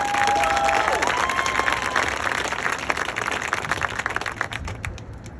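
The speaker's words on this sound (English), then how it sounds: "One more round of applause," An audience at a middle school spring concert claps for a trumpet trio; the dense applause fades gradually into scattered claps.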